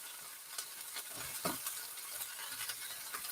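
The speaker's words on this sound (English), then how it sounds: "the whole point is to stir them and fry them" Beef, black beans and cashews stir-frying in a wok, a faint, steady sizzle broken by soft scrapes and tosses of the spatula.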